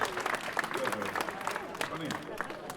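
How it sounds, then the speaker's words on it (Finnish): Brief, fairly faint applause from a concert audience at a memorial concert, a dense wash of clapping mixed with crowd murmur and a speaking voice over it. "Sitä annetaan pienet aplodit."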